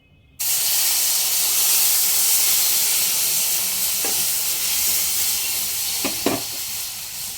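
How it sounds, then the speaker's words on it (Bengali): Pre-boiled sugar syrup is poured over golden fried semolina for halwa, setting off a loud, steady sizzling hiss that starts suddenly and holds throughout, with a few brief stirring clinks near the end. "এবার যে আগেই চিনির শিরা ফুটিয়ে রেডি করে রেখেছিলাম সব দিয়ে দেবো"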